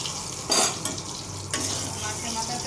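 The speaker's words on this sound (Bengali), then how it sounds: "মাছের মাথাটা ভাজা হয়ে গেছে, আবার আরেকটু নেড়ে চেড়ে দিই।" A fish head fries in oil in a pan while being stirred with a utensil, producing a steady close sizzle broken by a few scraping clinks against the metal.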